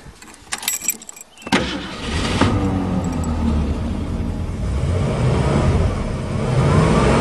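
A 1935 Mercedes replica car with its original carburetor: a few metallic clicks and jangles, then the engine starts and settles into a steady, close rumbling idle that builds slightly in loudness.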